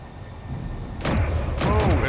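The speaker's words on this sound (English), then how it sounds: "Can't see the ship through all the explosions." Loud bursts of booming blasts, including a railgun blast, erupt in quick succession around a ship over a low rumbling background, like combat effects in a game.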